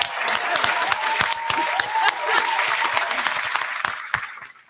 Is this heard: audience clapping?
yes